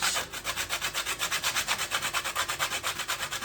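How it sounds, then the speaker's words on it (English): Whole nutmeg rubbed against a hand grater over pumpkin punch, a close, rapid rasping rhythm of quick even scrapes, about six strokes per second, without talk. "So now I'm grating my nutmeg into my pumpkin punch"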